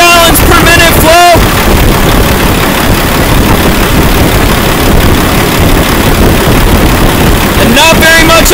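A hydraulic pump runs under a flow-test restriction at about 1,000 PSI, moving roughly 3 gallons per minute. It makes a loud, steady mechanical drone with a rushing, wind-like hiss that holds unbroken from start to finish.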